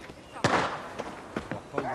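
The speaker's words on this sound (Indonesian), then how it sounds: "Thomas pun mendengar suara tembakan dari dalam hutan." Several sharp bangs of gunshots from inside a forest ring out in quick, irregular succession, each a short crack with a little echo.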